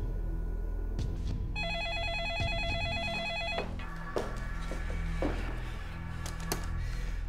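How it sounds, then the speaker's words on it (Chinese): A telephone in an office rings with a bright electronic warble lasting about two seconds, heard fairly close over a steady low background hum, with no talking. "有人打电话找您，说是公安局的。"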